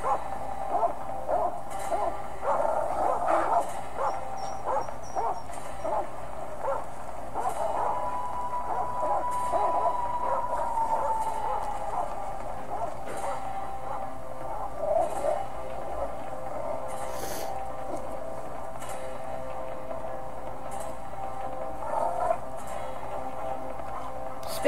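A wolf pack in the game Shelter 2 yips, whines and barks steadily in a thin, tonal chorus of overlapping calls and howl-like wails, moderately close and continuing throughout.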